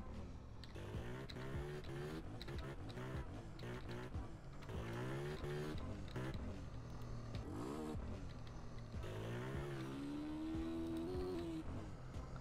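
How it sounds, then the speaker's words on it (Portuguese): A customized motorcycle with an aftermarket exhaust in the GTA video game revs repeatedly, engine pitch rising and falling through gear changes and sustained acceleration, loud and close with no talking. "a motinha tá forte demais, mano. Parece que esse escape deixou ela mais forte"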